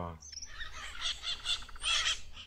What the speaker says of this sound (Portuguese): Um é o periquito maracanã e está sempre vocalizando